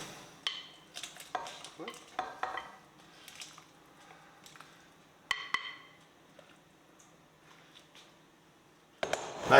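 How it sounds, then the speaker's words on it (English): Cubed potatoes go into a pot of boiling Durban curry, with a series of clattering, stirring knocks and splashes, a quiet bubbling pause, then a louder burst of scraping at the end. "we're going to add the potatoes in slowly"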